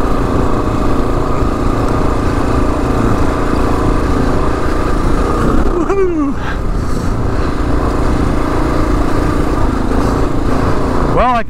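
A 2022 Kawasaki KLR 650 motorcycle rides off-road over bumps, its engine a steady, loud drone throughout with brief revving swells near the middle and again at the end.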